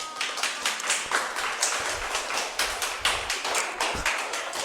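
Audience of teachers at a geography education lecture applauding together, a dense, steady round of many hands clapping that fills the room, fairly close and continuous with no speech over it.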